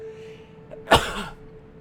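A single sharp human sneeze bursts out near the middle, close and brief, against a quiet background hum.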